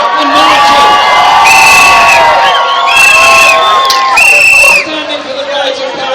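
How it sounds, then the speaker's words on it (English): A large crowd at a London street demonstration cheers loudly, mixing whoops, shouts and high whistles in sustained bursts that ease off near the end. "Give a cheer for all those in every country that tonight are demonstrating and marching"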